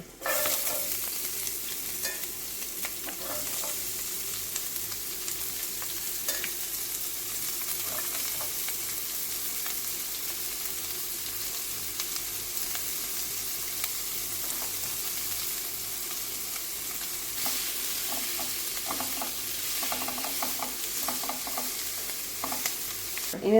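Chopped onions sizzle in hot oil with curry leaves in a pan for stuffed squid, a continuous close frying hiss with scattered scrapes and clicks of stirring throughout, no one speaking.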